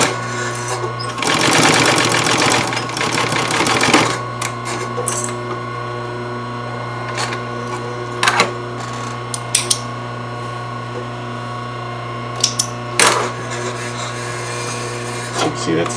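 A sewing machine stitches across a fabric seam, a dense, loud run of rapid needle strokes for about three seconds, then stops, leaving a steady motor hum with a few faint scattered clicks and handling noises.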